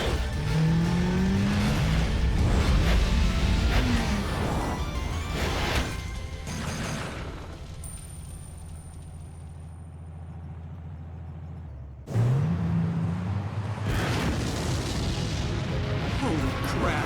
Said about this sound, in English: that's another thing we had to avoid were explosions.